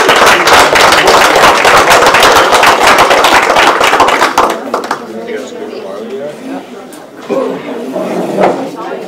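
A crowd claps loudly and briskly for about four seconds, then the applause fades out abruptly, leaving quiet room noise and a few faint voices.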